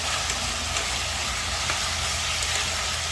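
Chicken frying with ginger in a pan gives off a steady, close, dense sizzle that holds evenly for the whole stretch with no pauses.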